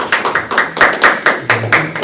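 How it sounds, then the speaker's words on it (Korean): Brief round of applause from a small audience at a 2021 social entrepreneur training session, the claps falling in quick, fairly even bursts that swell and fade over about two seconds. "큰 박수 한번 부탁드릴게요."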